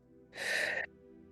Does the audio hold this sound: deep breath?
yes